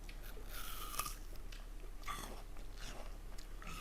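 A crisp, tart Australian apple bitten into with several loud, close crunches spaced a second or so apart, each followed by wet chewing.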